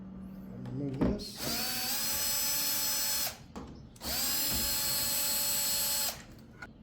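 A power drill boring a hole through a door slab runs loud and close in two long sustained whining bursts, separated by a short pause with small handling clatter.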